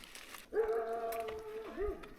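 A dog in a village gives a whining, howl-like bark that bends downward and returns briefly, fairly close and clear, with no voices over it.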